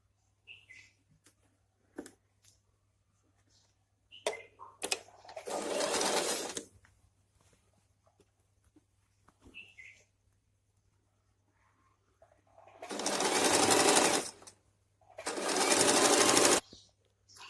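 A sewing machine stitches a pair of pants turned inside out, locking the seam near the end: three loud, steady motor bursts of a couple of seconds each, separated by quiet handling and light clicks.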